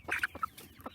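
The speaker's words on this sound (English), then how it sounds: "we have about 45 meat birds out on pasture" Meat chickens out on pasture cluck in a few quick, close notes over a faint outdoor background.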